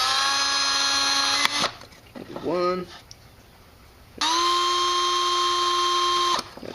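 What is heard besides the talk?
drilling holes in an aluminium bottle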